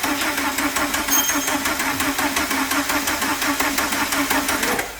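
An engine that had broken runs at a steady idle in an Iveco Daily van, a close, even mechanical clatter with a regular pulsing rhythm that continues throughout, with no talk.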